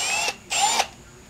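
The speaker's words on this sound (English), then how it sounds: "Make sure you drill the hole the right way." A power drill bores a hole into a wooden bench in two short bursts of high-pitched whirring, separated by a brief pause, close and moderately loud with no talk.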